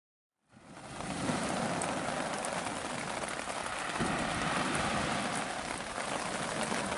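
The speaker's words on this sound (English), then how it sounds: "the rain's coming back down again, fairly heavy." Heavy rain pours steadily after a brief silence on a sea fishing trip at Orford Island, a dense, loud hiss of drops drumming on surfaces with no voices.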